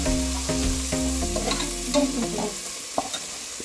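Onions frying with coriander and mint leaves for egg biryani, a steady close sizzle with a spoon stirring and scraping the pan, over a faint tonal background hum.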